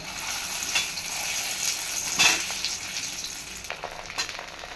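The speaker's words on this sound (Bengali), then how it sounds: "এখন আমি এর ভিতরে আমগুলো দিয়ে দিব" Mango pieces hit panch phoron spices frying in hot oil, making a close, crackling sizzle with bursts of louder spitting and a few stirring scrapes.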